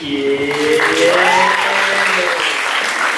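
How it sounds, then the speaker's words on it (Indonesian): Applause for newly installed KSPAN student officers at a junior high school in Mengwi, loud clapping from a crowd while a tonal, sliding sound and some voices run over it. "tepuk tangan untuk yang sudah dilantik"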